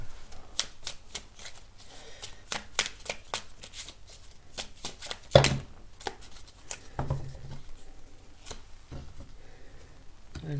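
Tarot cards are shuffled in rapid riffling bursts, a dense run of crisp flicks and slaps that sound close and fairly quiet, with brief pauses between handfuls.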